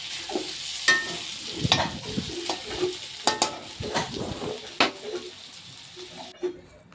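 Paneer with a little turmeric frying in a pan and being stirred, close-up sizzling broken by frequent scrapes and clinks of the spoon against the metal, with no talking.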